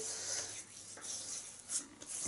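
Walnut-shell shaving scrub rubbed over skin, a soft continuous gritty rasping with a few brief louder scratches, close and quiet, no voices.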